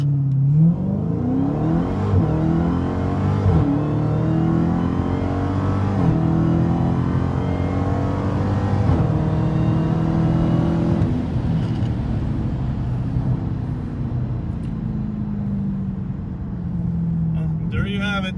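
Car on drag radials accelerating hard on the street, a loud, steady engine roar climbing in pitch through the gears over about eighteen seconds, heard from inside with a voice talking faintly underneath.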